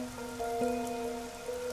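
Steady rain patters softly in the game Master Detective Archives: Rain Code, a quiet continuous wash under faint sustained musical tones.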